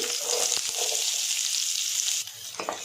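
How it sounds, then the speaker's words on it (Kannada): Oil with cinnamon, bay leaf, cardamom, cumin and three onions frying in a pan for gobi matar, a dense steady sizzle with a few stirring knocks, close and clear, no voices. "ಇದು ಸ್ವಲ್ಪ ಕೆಂಪಗಾಗೋವರೆಗೂ ಚೆನ್ನಾಗಿ ರೋಸ್ಟ್ ಮಾಡ್ಕೋಬೇಕು."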